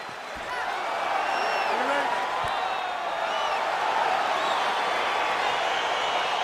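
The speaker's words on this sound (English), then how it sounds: "crowd getting excited as this fight gets underway" An arena crowd roars steadily at the start of a fight in EA Sports UFC 4, a continuous wash of cheering and whoops with faint whistles on top.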